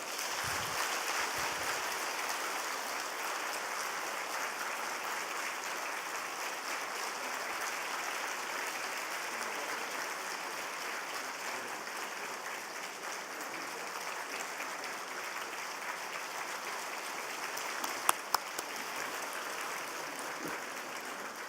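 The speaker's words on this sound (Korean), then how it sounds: "우리 교회에서 조그만 정성을 전할 때 뜨거운 박수로 축하해 주시기 바랍니다." A church congregation applauds warmly and steadily for over twenty seconds, a dense, even clapping that fills the room without a break.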